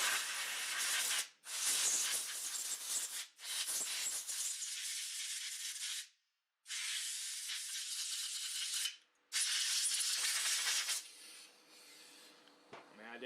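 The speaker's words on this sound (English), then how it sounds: "Now I am going to spray it down with just a little bit of brake parts cleaner just to get that excess penetrating oil off of there" Aerosol brake parts cleaner sprays onto a Kohler K Series small-engine carburetor in several loud, close, sustained hissing blasts separated by brief pauses, ending in softer rattling.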